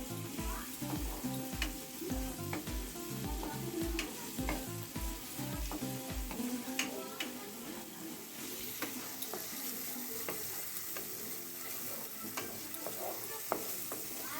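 A spice paste with ground cumin and turmeric fries in oil while being stirred, giving a steady sizzle with rhythmic scraping and clinking of the spoon, clear and close, with no voices.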